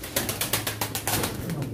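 Pigeons at a pigeon auction, with quick bursts of wing flapping and soft fluttering close by, repeated in a rapid rhythm over a low background hum.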